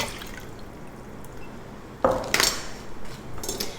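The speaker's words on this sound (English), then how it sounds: "I'll just fill this up with water, give it a good rinse, and put that in as well" Water sloshes and rinses inside an emptied tomato can, then is poured into a cooking pot with splashing, clinking bursts over a low kitchen hum.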